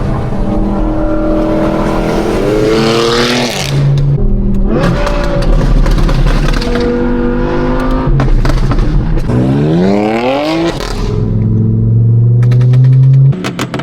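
An Audi R8 V10 with an aftermarket exhaust revs hard several times, its loud engine note climbing and falling in repeated bursts close to the listener, with no talking.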